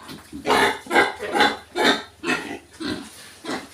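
Pigs in a pen grunt loudly and close, in a steady series of about eight rough grunts at a regular rhythm, with no talking.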